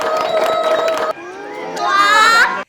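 At a birthday celebration on an Ethiopian TV program, a crowd that includes children cheers and shouts loudly, with whoops and sustained voices rising toward the end before cutting off abruptly.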